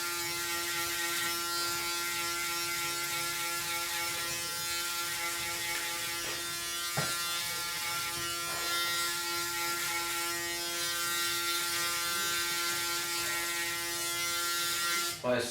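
Electric hair clippers cutting a fade on a textured mid-length crop, a steady close buzz running throughout with slight changes in tone as the blade passes through hair.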